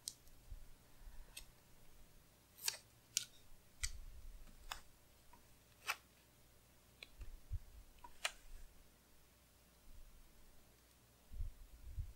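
Scissors snip through paper for a planner in a run of sparse, sharp clicks spaced a second or two apart, quiet and close, with no talking.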